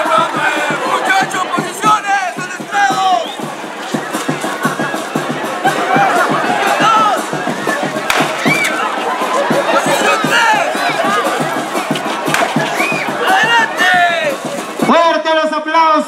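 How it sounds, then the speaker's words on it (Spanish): A crowd at a carnival parade, the Cutervo corso carnavalesco, cheers and shouts steadily throughout while an announcer speaks over a loudspeaker. "Fuerte los aplausos para estos Fuerza Especial de Reseña."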